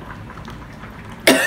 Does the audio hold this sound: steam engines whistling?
no